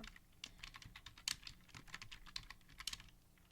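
Rapid keystrokes on a computer keyboard sound close but quiet, an uneven run of light clicks with a few sharper taps, and no voices.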